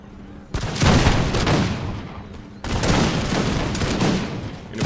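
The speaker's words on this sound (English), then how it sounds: "In fact, I think we can fire now." Two massed musket volleys crash out in a Napoleonic-era Imperial Splendour battle, each a loud, dense wave of crackling shots that rolls on for about two seconds before dying away.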